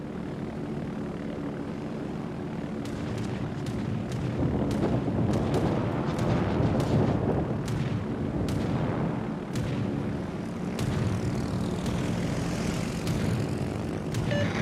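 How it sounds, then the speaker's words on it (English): Fighter aircraft engines roar in World of Warships, a steady loud drone with sharp gunfire and artillery cracks scattered throughout, no voices. "Fighter airborne."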